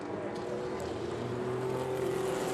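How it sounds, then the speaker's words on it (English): A 1973 Porsche 911 RSR race car at a vintage qualifying session, its engine note holding a steady drone as it goes by at moderate distance. "Ranson Webster in the 73 911 RSR."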